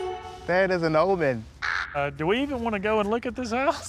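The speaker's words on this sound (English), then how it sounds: "There's the crow there on the steeple." A crow caws repeatedly from a church steeple, its harsh calls clear and fairly close, interleaved with people talking over it.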